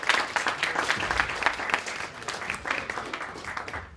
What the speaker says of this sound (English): Let's get a big round of applause for Garth and Action Coach.